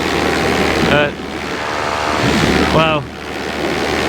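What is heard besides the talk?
paramotor engine running at over 6,000 RPM in flight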